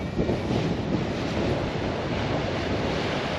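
Strong wind roars steadily across a clifftop, buffeting the microphone with continuous broadband rumble and surf-like noise for the whole stretch, loud and unbroken.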